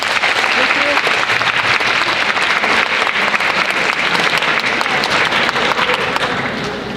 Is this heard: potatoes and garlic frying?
no